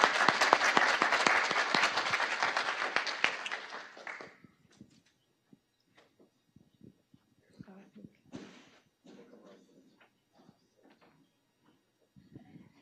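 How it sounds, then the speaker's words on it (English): An audience at a web accessibility talk claps in a dense burst of applause that fades out after about four seconds, followed by scattered voices and small knocks in a quiet room. "just a round of applause"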